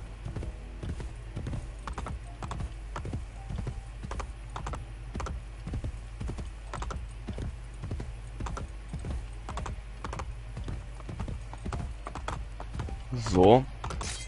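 Horse hooves in Assassin's Creed Brotherhood, a steady rhythmic clip-clop of galloping running the whole time, close and even, with a short neigh near the end and a voice talking over it.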